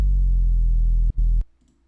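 Synth bass through soft clipping distortion and a heavy compressor sounds as a single thick, loud, sustained low note, then a quick gap and a short second hit before cutting to near silence.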